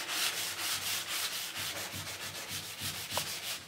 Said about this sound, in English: And if I can, I may wet sand